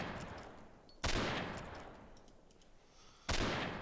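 Rifle fire in the Forgotten Hope 2.6 war game, two loud sharp shots about two seconds apart, each followed by a long echoing tail over a low rumbling background.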